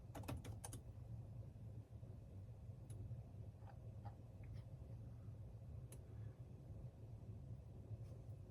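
Faint computer keyboard typing while entering a search: a quick run of light keystroke clicks at the start, then a few scattered taps over a steady low background hum.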